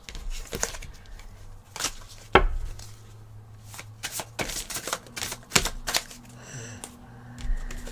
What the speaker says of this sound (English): I'm going to pull one of these Heal Yourself cards.